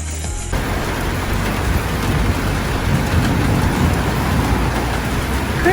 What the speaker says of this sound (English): A thunderstorm in the afternoon.